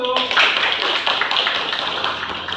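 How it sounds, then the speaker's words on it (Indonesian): A classroom of students claps for a presenting group, with dense overlapping hand claps heard close up and fairly loud, with some short tonal sounds near the start. "Tepuk tangan untuk nomor 1."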